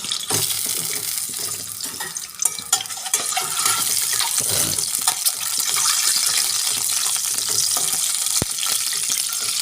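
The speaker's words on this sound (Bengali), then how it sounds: "আমি ডিমটা একটু কাট দিয়ে নিয়েছি, দিয়ে ভেজে নিচ্ছি" Egg frying in hot oil in a home kitchen, a continuous bright crackling sizzle with a few sharp pops and clinks, close and steady throughout with no voices.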